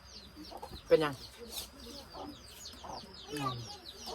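Chickens cluck nearby in a rural Lao-speaking setting, with a few loud squawking bursts and softer clucks in between, mixed with short bits of people talking.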